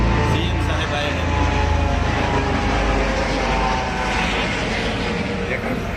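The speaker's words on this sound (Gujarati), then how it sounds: "હવે તો બા હેલિકોપ્ટર નીકળ્યું હતું" A helicopter passing overhead, a loud continuous engine and rotor roar that stays fairly steady throughout, with voices faintly audible underneath.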